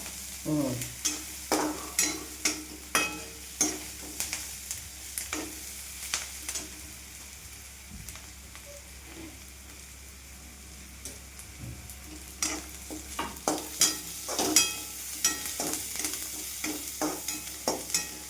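Onion being stir-fried in a pan for a kurdai onion dish, with repeated spatula scrapes and stirring clatter over a steady low sizzle, busy at first, a quieter stretch in the middle, then renewed bursts of stirring near the end.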